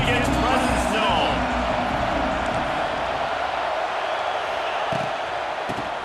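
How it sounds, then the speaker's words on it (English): A stadium crowd in the College Football 26 video game sends up a dense, steady roar of cheering throughout. A commentator talks over it. "This crowd ready to make its presence known."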